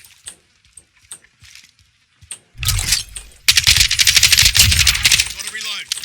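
Full-auto gunfire in Call of Duty, a dense, rapid rattle of shots that starts after a few quiet moments and stays loud and continuous, with a person talking over it.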